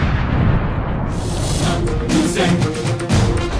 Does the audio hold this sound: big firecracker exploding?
yes